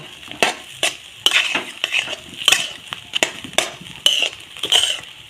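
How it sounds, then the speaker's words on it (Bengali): A spoon stirring semolina pulao with ghee in a pan, scraping and clinking in quick repeated strokes against the metal, close and fairly loud, with a light sizzle underneath. "ঘিটা দিয়ে আবারও আমি খুব ভালো করে নাড়াচাড়া করব"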